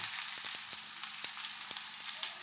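Coriander seeds frying in a little oil along with ginger, for a rustic black-masala drumstick curry. A steady close sizzle with faint ticking pops runs throughout and no one speaks over it.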